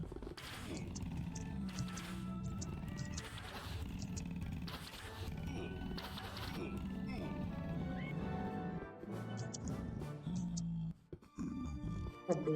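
A horse in the Minecraft Infdev+ mod neighs and whinnies amid a dense, steady bed of roaring game creatures and ambient noise, with hoof clip-clops and some faint speech in the background.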